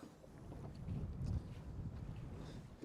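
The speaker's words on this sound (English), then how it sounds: "Very windy today." Gusty wind buffets a small fishing boat on a river, a steady low roaring rush with a stronger surge in the middle and no voices.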